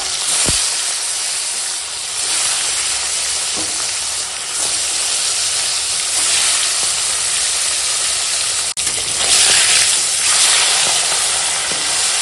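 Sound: fish frying in hot oil

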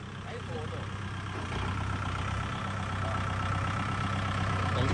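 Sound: tractor engine idling while pulling a stuck truck

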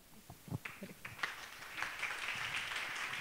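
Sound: audience applause

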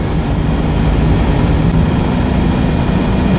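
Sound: Citroen Dyane car engine accelerating uphill in top gear

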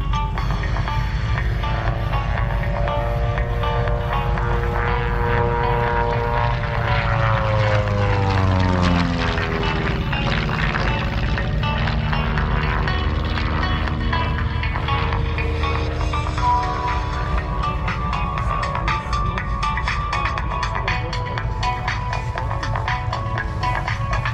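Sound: propeller aircraft flying at an airshow

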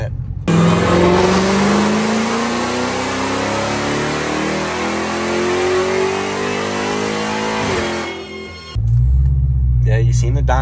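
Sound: modified 2021 Dodge Challenger Hellcat engine revving on a dyno

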